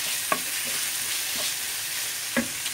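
A spoon stirs tamarind water into a sizzling pan of Goan dry prawn kismur, with steady frying hiss and a few soft scraping strokes against the pan.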